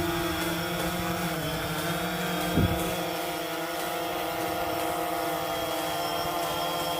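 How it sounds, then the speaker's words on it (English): A DJI Phantom 3 Standard drone lifts off on auto takeoff, its propellers holding a steady, fairly loud whining hum with layered tonal buzz and a brief low thump partway through. "Let's go ahead and do an auto takeoff."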